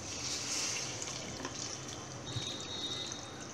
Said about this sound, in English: And now again you add some water.